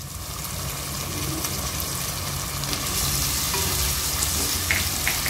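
Onion and potato frying with ginger-garlic paste in a pan, a close, steady sizzle with light stirring scrapes running throughout and no talk.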